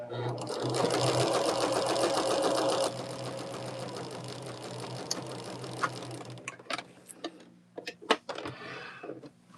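A sewing machine stitches quilt block rows together in a steady, fast whirring run for several seconds, then stops, leaving scattered clicks and handling noises close by.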